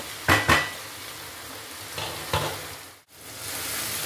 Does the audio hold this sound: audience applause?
no